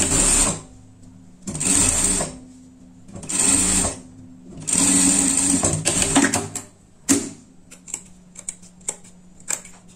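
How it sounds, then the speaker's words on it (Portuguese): Sewing machine running a safety stitch while a tweed pet outfit is assembled, in several sustained whirring bursts of rapid needle chatter separated by short pauses, followed by scattered clicks and handling noises near the end. "a gente vai passar uma costura de segurança aqui"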